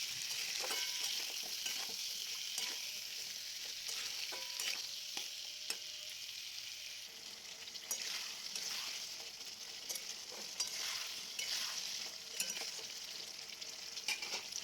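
Potatoes with chopped tomato and a few peas fry and get stirred in a pan, a steady close sizzle with scraping stir strokes throughout, no talking.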